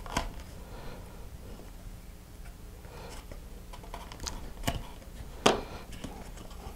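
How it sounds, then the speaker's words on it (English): Scissors snipping off excess string after tying a knot on a paper model rocket transition, with a few soft isolated clicks and one sharper snip near the end, close and quiet with no talk. "Okay, I'm going to cut off that excess."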